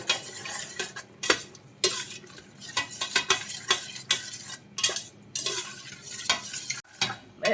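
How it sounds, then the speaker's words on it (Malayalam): A spoon stirs yogurt into chicken biryani masala in a pot, with repeated close scraping strokes against the metal and a soft sizzle beneath them. "ഇത് നന്നായിട്ടൊന്ന് മിക്സ് ചെയ്ത് കൊടുക്കാം"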